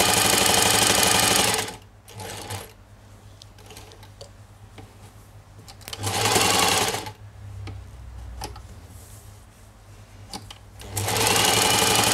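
A Singer 984 semi-portable sewing machine runs in loud bursts that start and stop, with quieter clicking and handling between the stitching runs.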